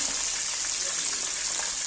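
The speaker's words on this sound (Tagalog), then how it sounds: "Kailangan iprito muna natin yung tilapia natin para mas masarap ba siya" Steady, close sizzling of tilapia frying in hot oil in a pan, a continuous crackling hiss with no talking.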